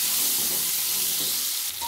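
Pointed gourd (potol) pieces fry in oil, a loud, close, continuous hissing sizzle with a couple of soft stirring scrapes, heard alone without speech.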